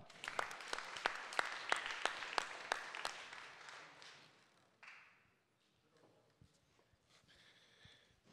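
Applause from an audience at an award ceremony, a dense burst of clapping with sharp accents that fades after about four seconds into quieter room noise and faint voices.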